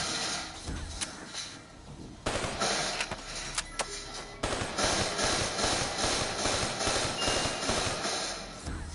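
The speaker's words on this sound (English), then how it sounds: "I'm gonna get a headshot shooting by the zombies." Gunfire against zombies in Call of Duty Black Ops III, rapid bursts of shots crackling loudly in a dense, noisy game mix, with a few sharp single reports early on and sustained firing later.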